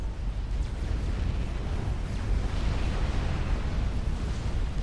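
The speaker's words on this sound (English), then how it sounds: "It's just like explosions." Explosions in the strategy game Supreme Commander merge into a dense, rumbling roar of blasts and low booms, loud and continuous without distinct separate hits.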